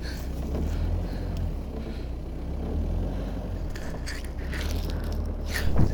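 A Mahindra Roxor fitted with Warn manual locking hubs strains in snow, its engine bogging down in a low, labouring rumble with wind noise over the microphone.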